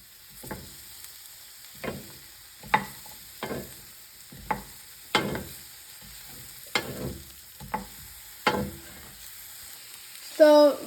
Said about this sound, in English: So we should give a good mix to the mushrooms and let them fry for 2 to 3 minutes